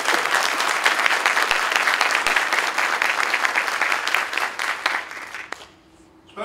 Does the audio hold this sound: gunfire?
no